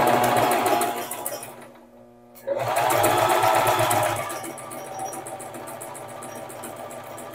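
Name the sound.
sewing machine stitching fabric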